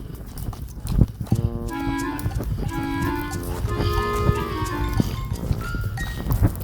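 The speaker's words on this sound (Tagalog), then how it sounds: "Ay, pababa na yung kalabaw." A carabao (water buffalo) lows with a long, drawn-out harmonic moo on a farm, loud and close, broken into several sustained calls over background noise.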